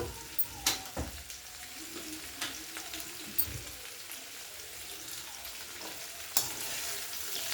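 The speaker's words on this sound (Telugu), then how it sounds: "ఇందులో పచ్చంతా పోయే వరకు మూత పెట్టకుండా వేగించుకోవాలి" Bitter gourd pieces fry in oil with turmeric in an open pan, producing a faint, steady sizzle punctuated by several sharp clicks and scrapes of stirring.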